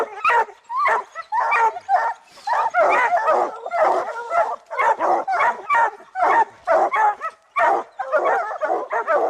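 Bear hounds bay and bark nonstop at a treed bear, a dense chorus of overlapping barks, yips and whimpers from several dogs close by, with no pauses in the racket.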